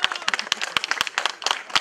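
A small audience claps loudly at a local celebration, with a short, close burst of distinct, uneven hand claps and a few stronger accents.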